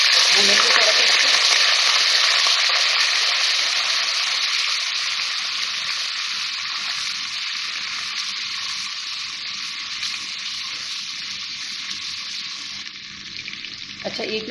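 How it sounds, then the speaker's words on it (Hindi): Ginger-garlic paste frying in hot oil for egg korma, a steady loud sizzle throughout with stirring, easing slightly toward the end; no speech. "भूनेंगे थोड़ा सा इसको।"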